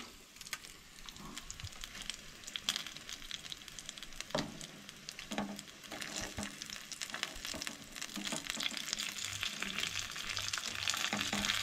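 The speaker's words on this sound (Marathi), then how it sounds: "बरी टर्न करून न्हय फ्राय करूंक जाय मागीर भितरसूनय बरें फ्राय जाता" Kingfish pieces coated in masala and rava shallow-fry in a pan, giving a steady, crackling sizzle that grows louder and denser toward the end, with no voices.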